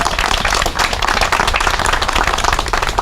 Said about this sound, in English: Can we give Mr. Stanton another round of applause?